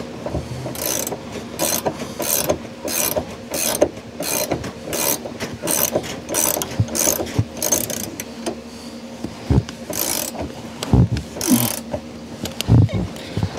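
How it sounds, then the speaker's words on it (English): A ratchet wrench tightens a nylon locking nut during a seat-belt gear plate install, giving steady repeated bursts of close, loud clicking strokes with short pauses between them and a few thumps. "Okay, get the wrench for that."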